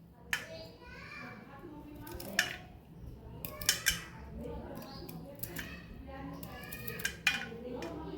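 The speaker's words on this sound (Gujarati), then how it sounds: "હવે આપણે એક ડીશની અંદર એને ઝીણા ઝીણા કટ કરી લઈશું આવી રીતે" Jamun seeds being cut into small pieces in a dish, with repeated sharp snipping and clicking cuts at irregular intervals, close and crisp, under someone talking throughout.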